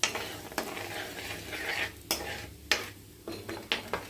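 Asafoetida, black cumin and salt fry in hot oil for mixed pickle, a faint sizzle broken by several sharp spoon scrapes and clinks against the pan as the spices are stirred.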